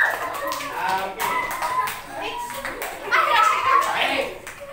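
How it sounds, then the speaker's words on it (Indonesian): Young pupils clap their hands in a primary-school classroom during a role-play science lesson, a scattered, uneven patter of claps mixed with children's chatter and voices. "Silakan kembali ke tepuk tangan dulu."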